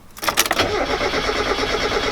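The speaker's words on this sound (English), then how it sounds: "just crank the car over for a couple seconds" A car engine cranks over for a couple of seconds to bleed fuel pressure during a Vortech FMU install, with a loud starter whir and rhythmic cranking pulses close by.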